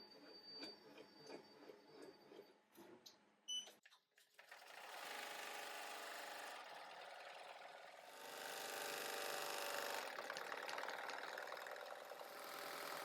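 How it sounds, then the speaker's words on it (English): A BAi embroidery machine stitches a hat, first with a few light clicks and a brief clatter, then a steady, loud, rapid mechanical whirring and chattering that continues close by and swells slightly later on. "It just finished stitching out the outline stitch, the white, the first part"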